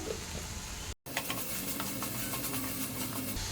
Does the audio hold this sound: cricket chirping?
no